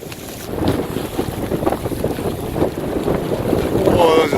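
Cold, strong wind roars across a boat in rough seas, a loud, continuous rush with surging gusts and some water noise, a voice faintly present beneath it.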